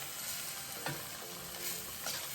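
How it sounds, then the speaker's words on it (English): Seasoned meat sizzles steadily in a pan for chicken spaghetti, with a few scraping stirs of a utensil cutting through the constant hiss, close and alone without talk. "And next I'm gonna stir it around."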